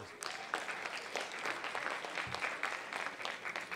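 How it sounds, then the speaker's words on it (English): Applause at a teen video awards ceremony, a dense, even patter of many hands clapping from a seated audience, steady and moderately distant. "So that's a double applause."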